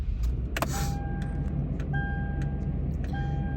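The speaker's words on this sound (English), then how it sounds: "turn off the car, let it sit for a second, turn it back on" A Toyota 4Runner is switched off and restarted, heard as clicks, repeated dashboard chimes and ticking relay sounds over a low engine and cabin hum.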